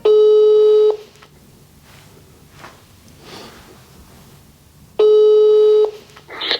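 A telephone call rings out as two loud, close ringback tones about a second long, separated by a quiet gap of roughly four seconds with faint background noise.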